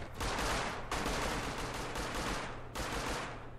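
Heavy gunfire during a raid in Rust, loud bursts of automatic fire and dense volleys filling the stretch with brief breaks between bursts, no voices.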